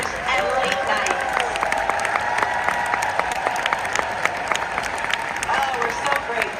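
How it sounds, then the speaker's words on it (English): Loud, sustained applause from a large audience at a Mary Kay company event, dense clapping with scattered cheers and crowd babble running steadily throughout. "a big round of applause for all their hard work, long hours, and late nights"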